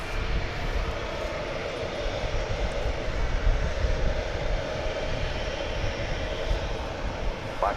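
A CRJ 700 series jet roars steadily during its takeoff roll at DFW Airport, a broad, continuous engine rumble heard from a moderate distance for several seconds.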